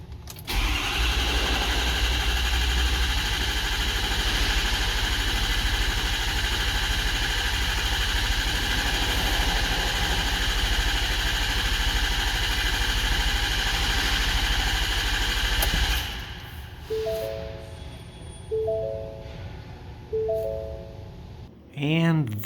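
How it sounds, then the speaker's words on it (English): A Ford 6.7 diesel cranks and runs steadily during a power balance test, a loud, even engine roar for about sixteen seconds before it drops away to a quieter background with short electronic beeps. "Crank engine for 10 seconds or until test is complete"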